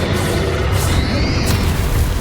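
A Confringo blasting spell goes off in Hogwarts Legacy as a loud, dense explosive roar. A deep rumble and crackling fill the whole short stretch without a break.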